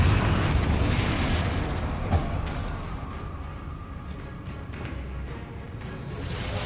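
Confringo blasting spell exploding in Hogwarts Legacy, a loud rumbling boom that fills the clip and slowly fades, with a sharp crack partway through and continuous game noise underneath.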